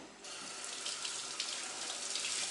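Water runs steadily from a tap while a freshly cleaned fish is rinsed during a fishing trip, a continuous bright hiss with small splashing shifts throughout.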